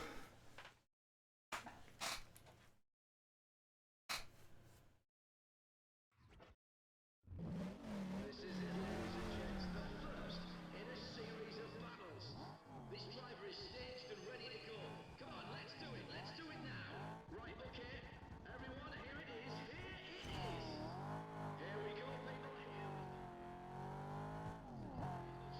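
Car engine revving and tires squealing while drifting in Need for Speed ProStreet on the Wii, a steady loud roar with rising and falling pitch after a few choppy bursts, with a person talking over it.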